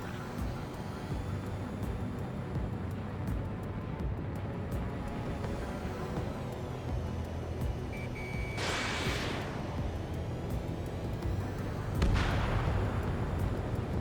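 Anti-air guns fire in the combat flight game Ace Combat 7, with two sharp bursts cutting through a constant loud jet and battle roar.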